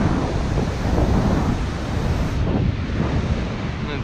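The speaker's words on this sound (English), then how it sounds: "all the raw power of the ocean it is today, as rough as it is" Rough ocean surf breaks on a beach as the tide comes in, a loud, continuous roar of crashing water mixed with gusting wind buffeting the microphone, with no voices.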